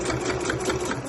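A sewing machine runs steadily, stitching a seam through a slouch bag's outer fabric, sewn like canvas; a close, continuous whirring with a fast even needle rhythm throughout.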